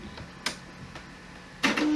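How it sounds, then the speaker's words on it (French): A dot matrix printer switches on beside a Windows 95 computer, giving a few sharp mechanical clacks and bursts of whirring against a quiet hum, the loudest near the end. "c'est vraiment beaucoup trop de bruit pour une imprimante matricielle"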